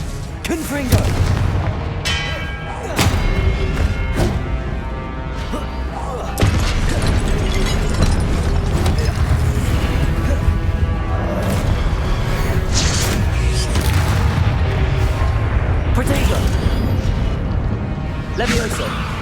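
Spell blasts from Hogwarts Legacy combat, dense repeated booms and bursts with crashing impacts over a continuous musical and effects bed, loud and busy throughout.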